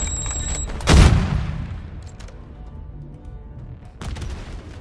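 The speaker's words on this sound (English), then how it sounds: "Grenades, take cover!" A grenade explosion booms in the Call of Duty Modern Warfare 3 campaign on Xbox Series S, with a sharp loud blast that fades into a rumble. A short burst of gunfire follows later.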